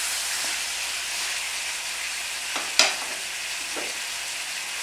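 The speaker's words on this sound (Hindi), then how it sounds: "टोमेटोज, सॉल्ट और इसको थोड़ा मिक्स कर लेंगे।" Tomatoes and salt frying in a kadhai for Punjabi kadhai mutton, a loud continuous sizzle with a couple of brief stirring scrapes and one sharp clink partway through.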